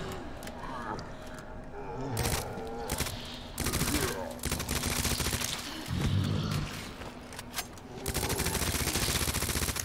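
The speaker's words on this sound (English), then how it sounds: "How many fucking times do I have to shoot these pieces of shit?" Gunfire in the Resident Evil 2 Remake video game: bursts of loud shots and rapid machine-gun fire with booming impacts, interspersed with game noises and occasional groans across the clip.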